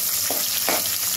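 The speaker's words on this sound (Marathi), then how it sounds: "आता हा मी कांदा घालते फोडणीला, या टोमॅटो घालते फोडणीला" Onion and tomato hit a hot spiced-oil tempering for egg biryani, a strong continuous sizzle broken by two brief stirring scrapes, close and loud with no talking.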